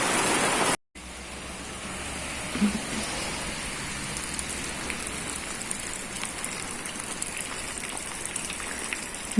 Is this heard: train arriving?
no